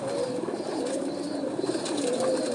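Pigeons of a prized breed coo steadily in a loft, soft low murmuring calls layered together at close range with a busy background hum, no voices present.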